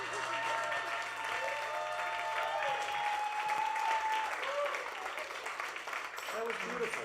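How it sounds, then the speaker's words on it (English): Audience at a live band show in a coffee shop claps and cheers continuously, dense sustained applause from a crowd, fairly loud with voices mixed in; steady rhythm not clearly distinguishable. "I can't remember a rhythmic clapping session that we've had on the show before"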